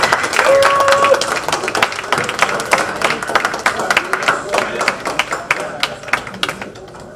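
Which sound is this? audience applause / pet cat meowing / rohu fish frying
audience applause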